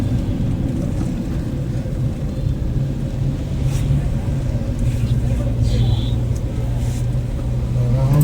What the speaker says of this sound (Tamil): இன்னும் ஒரே கூட்டமாக இருக்குது, டிராஃபிக் அதிகமாக இருக்குது.